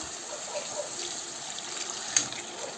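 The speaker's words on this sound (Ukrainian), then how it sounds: "Розводжу його водичкою." A thin stream of water trickles and pours steadily into a sauce being made into gravy, fairly quiet and close, with a brief splash near the end and no talking.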